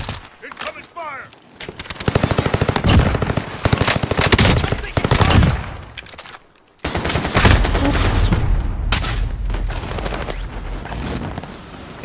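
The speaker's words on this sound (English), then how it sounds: "Incoming fire." Rapid automatic gunfire in Call of Duty Warzone on Rebirth Island, loud and close, with long sustained bursts broken by a brief pause before more shooting resumes, under occasional voices.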